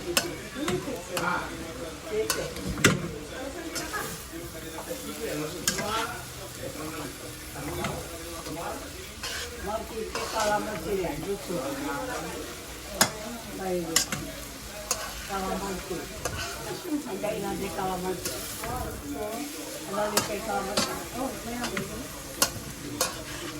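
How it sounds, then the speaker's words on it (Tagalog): Tuna sisig being stirred in a sizzling pan, a steady crackling fry with repeated scraping and ticking of the utensil against the pan, running throughout while people talk nearby. "Haluin natin ulit."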